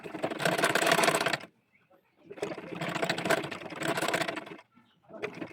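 A sewing machine stitches folded lace onto a baby dress made of gauze fabric, running in bursts of rapid, close mechanical chatter separated by brief quiet pauses.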